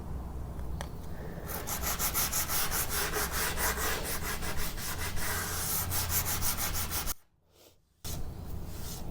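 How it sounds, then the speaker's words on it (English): Micro sander working the finish of an old campaign-style wooden coffee table with 120 grit sandpaper, a steady close buzzing scrub with rhythmic strokes, cutting off briefly near the end before resuming. "I'm going to use the micro sander to get into those details first."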